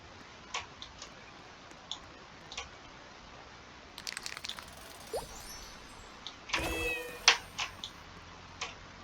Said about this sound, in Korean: 고양이?